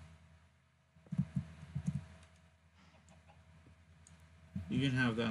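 Minecraft chickens give a few short soft clucks at moderate distance, scattered low bursts early on, with a voice speaking near the end.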